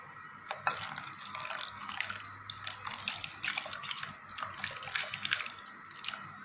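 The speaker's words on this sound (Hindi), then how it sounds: "अब इस पॉइंट पे इसमें ऐड करते हैं 1 गिलास जो है वो पानी।" Water from a glass poured into strained mango juice, a steady splashing, trickling stream running continuously at close range, loud and unbroken, with no talking.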